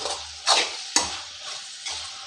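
Vegetables, eggplant with chilies, sizzle steadily in a home kitchen pan while a spoon stirs them in three distinct scraping pushes against a constant low frying hiss.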